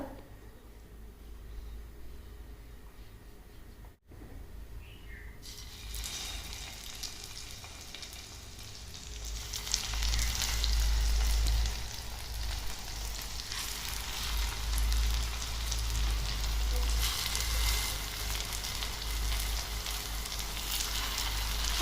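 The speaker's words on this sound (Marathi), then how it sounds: "आता आलू टिक्की मस्त अशी तव्यावरती फ्राय करून घेऊ तेल लावून" Aloo tikki fry in a little oil on a tawa griddle, a faint sizzle swelling after about ten seconds into a loud, steady, close crackle that continues to the end.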